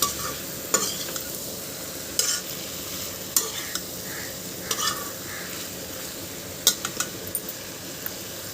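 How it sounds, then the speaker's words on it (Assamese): Fried jackfruit pieces sizzle quietly in a spice masala while a utensil periodically clinks and scrapes against the pan, soft stirring bursts over a steady low frying hiss. "এতিয়া মই এয়া ফ্ৰাই কৰি থোৱা কঁঠালখিনি ইয়াত দি দিছোঁ।"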